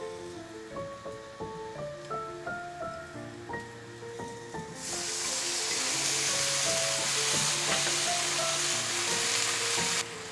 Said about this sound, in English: Just let the mushrooms simmer for a little bit.